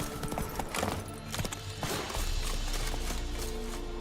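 Roach, a horse in The Witcher 3 video game, gallops with rhythmic clip-clop hoofbeats, moderately loud and steady, over faint game ambience.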